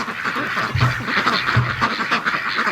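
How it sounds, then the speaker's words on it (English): Ducks rushing home quack in a close, busy chorus, several overlapping calls with a couple of louder honking quacks standing out. "So that's the duck rush home tonight."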